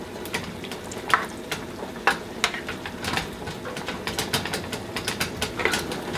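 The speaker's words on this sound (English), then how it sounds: "I'll just take this spoon," A spoon stirs food in a pan over medium heat, giving soft scraping clicks at an irregular pace over a steady low sizzle, close and moderately quiet.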